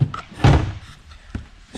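Half door of a 2019 Yamaha YXZ 1000R side-by-side being opened, giving a single close, solid thunk with a lighter knock shortly after, no talking.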